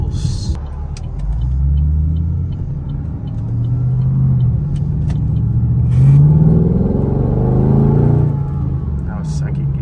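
A Chevrolet Camaro SS, a cheap auction car being rebuilt, pulls onto a main road with a deep engine rumble that rises and falls as it accelerates through the gears, heard from inside the car along with a little voice.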